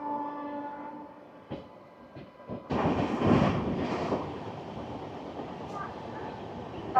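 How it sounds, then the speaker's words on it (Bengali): Two WAP7 electric locomotives, one in cheetah livery and one in white and orange, haul the 12337 Shantiniketan Express past at speed, building from faint rumble to a loud rushing roar of wheels and wagons. "দুটোই WAP7 লোকোমোটিভ, একটা চিতা লিভরি আর একটা তো নর্মাল WAP7"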